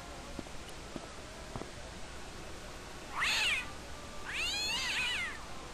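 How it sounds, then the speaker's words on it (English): A cat in the video game Broken Sword lets out two drawn-out meows a second apart, fairly clear over a quiet background with a few faint taps before them. "Invisible cat!"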